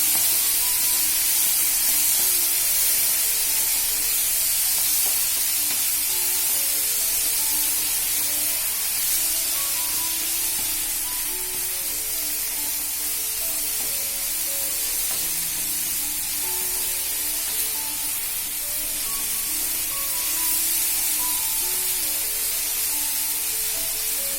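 Chopped tomatoes frying in a pan for murmura poha, a continuous close sizzle and hiss with faint stirring, steady in level for the whole stretch and without any talk.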